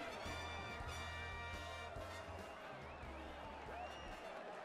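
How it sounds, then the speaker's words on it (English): A video game crowd in Final Fantasy 7 Rebirth roars and cheers in a steady, dense wash during a tournament, with tonal game sounds layered over it and no talking. "The crowd is going wild."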